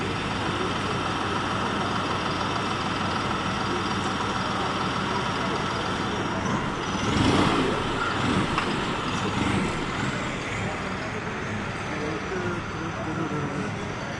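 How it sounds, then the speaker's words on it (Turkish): A recently sold tractor pulls away at the 2021 Sakarya agricultural fair, a steady engine rumble over busy fairground noise that swells briefly midway, with voices around. "Evet arkadaşlar satılmış bir traktör gidecek şimdi."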